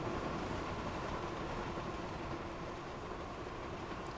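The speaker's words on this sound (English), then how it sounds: "Relaxing train ride through the meadow or the fields of the island of Sodor." A train rolls steadily along in Thomas & Friends: Wonders of Sodor, a continuous rumbling ride with a faint clickety-clack under a dense, even wash of noise and no voices.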